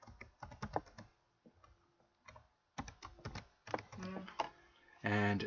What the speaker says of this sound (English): I'm just going to type in its name here